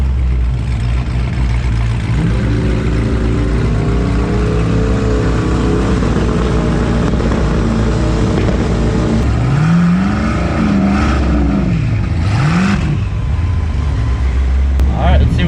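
A twin-turbo Cadillac CTS-V at a drag race against a 1000 hp Trackhawk, a loud continuous engine drone with rising and falling revs and sweeping pitch changes near the end, with a voice speaking over it.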